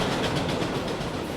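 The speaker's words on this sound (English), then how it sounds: "This is the never-ending train." A long freight train rolls steadily past at close range, a continuous loud rumble and rattle of wagons with rhythmic clickety-clack over the rails and no break in the noise.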